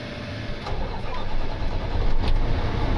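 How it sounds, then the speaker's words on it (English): A truck engine cranks repeatedly without catching, a steady churning starter rumble that grows slightly louder over a few seconds, close and alone. "So start this back up. Watch now, it won't start."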